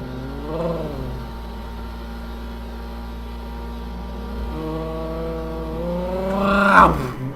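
Engine hum of a car driving in the video game GTA 5, a steady low drone with a rising, louder roar of revving near the end.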